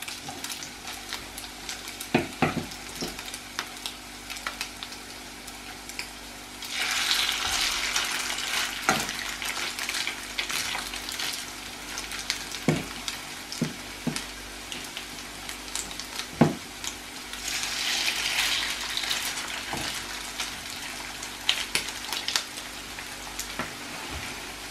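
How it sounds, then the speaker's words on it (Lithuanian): Chicken cutlets sizzle in a pan over medium heat with a steady frying hiss. Two louder bursts of spitting oil and scattered clicks of the pan and utensils cut through it. "Kotletai taip puikiai kepa, puikiai laiko formą."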